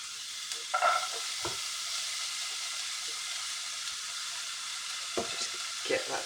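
Vegetables sizzle in a very hot pan with a constant steady hiss, joined by a few scraping stirs and clatters of a utensil against the pan.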